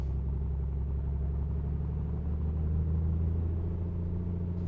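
A Piper Comanche's piston engine running while taxiing, a steady low droning rumble that holds even and slightly swells as power comes up, with no voices.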